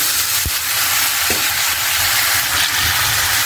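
Vegetables and cumin sizzle loudly in leftover fish-frying oil, a steady, close hiss with occasional stirring clicks and no talk.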